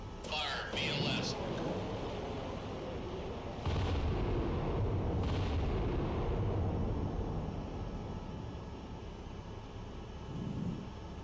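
A vertical launch system missile launch aboard the battleship USS Iowa in the naval combat game Cold Waters, with a burst of rushing roar and booming rumble that swells and sustains, accompanied by spoken voices throughout.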